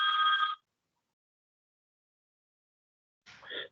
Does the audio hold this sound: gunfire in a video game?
no